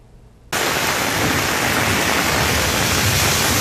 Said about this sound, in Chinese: 高雄市是下起了豪大雨